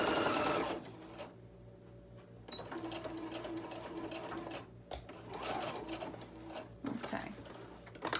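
A sewing machine stitches down a lunch tote bag in several bursts of rapid mechanical whirring, close and fairly quiet, with brief pauses between runs and a voice speaking at moments.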